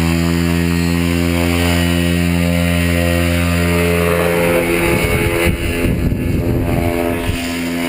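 A paramotor engine at a paramotor flight school in Val d'Oise throttles up for takeoff, its steady loud drone rising midway into a rough, roaring full-power buzz that stays close and continuous.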